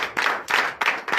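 A church congregation at a Sunday service in Benin applauds, giving several rhythmic bursts of clapping in quick succession, close and moderately loud.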